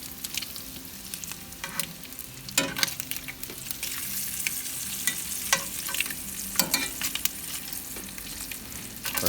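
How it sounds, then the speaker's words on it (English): Steady crackling sizzle of bacon frying in a pan, close and continuous, with occasional louder pops and scraping stirs. "Sizzling up in its own juices here."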